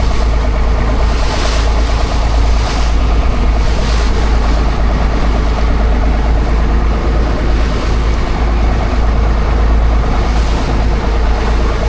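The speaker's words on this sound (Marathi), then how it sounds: "लाटा बघा, लाटा तुफानी लाटा." Stormy sea waves and strong wind batter a rocking fishing boat out on pomfret fishing grounds, a loud, continuous broadband roar with steady low rumble and no talk.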